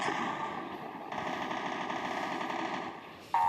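Rapid automatic gunfire from a weapon in a video game rattles steadily and fairly loud for most of the span, alone with no talk, then cuts to a brief higher-pitched tone at the end.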